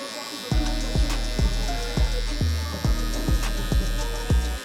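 Electric hair clippers running on a burst fade mullet haircut, a steady humming buzz with repeated short rhythmic bursts as the blades pass over hair, close and continuous with no talking.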